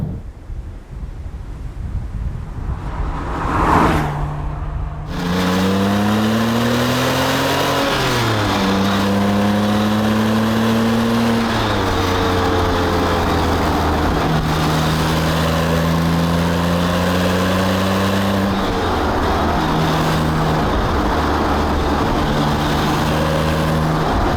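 A Porsche 911 Turbo (997) engine drones steadily from inside the cabin, its pitch rising and falling through gear changes, over constant wind and road noise.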